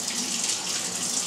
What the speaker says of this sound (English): And then you wait till the water's hot.